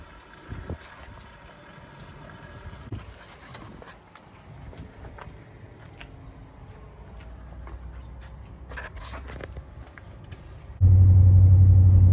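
A 1997 Ram 1500 pickup with engine problems cruises on a night drive, its engine a steady low drone under road noise, with a sudden loud rushing burst at the end.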